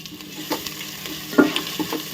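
Ginger paste frying in ghee with garam masala and bay leaves for basanti pulao: a low, continuous sizzle broken by several sharp scrapes of stirring in the pan.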